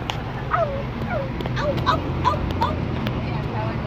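A dog yelps and barks in short, high bursts, several times in quick succession, over a background hum with people talking, at a spot overlooking Taal Volcano in Tagaytay.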